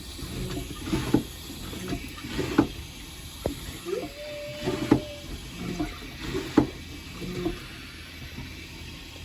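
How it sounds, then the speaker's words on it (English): Water runs and gurgles into a boat toilet bowl through an opened valve, with intermittent splashing surges and a steady hiss over several seconds, nearby and moderately loud. "You can see water starting to come."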